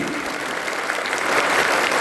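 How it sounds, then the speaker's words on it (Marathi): Men in a kirtan audience clap together, a dense, sustained burst of applause that swells slightly toward the end, close and fairly loud. "पुन्हा एकदा पुरुष मंडळी टाळी"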